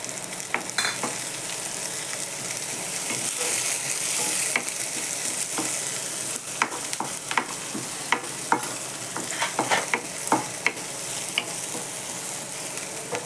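Chopped tomatoes frying with reddened onion in a pan for a homemade sandgе vegetable curry, a steady crackling sizzle with occasional sharp stirring scrapes and taps throughout.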